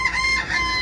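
A chicken crows loudly and close by in one short, ringing call.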